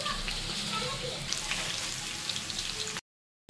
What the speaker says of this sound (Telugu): ఇప్పుడు మంటను హై ఫ్లేమ్లో మళ్ళీ పెట్టుకొని ఒకసారి టర్న్ చేసుకోవాలండి. బాగా వేగాలి, అట్లీస్ట్ ఒక 10 మినిట్స్ అన్నా వేగాలండి.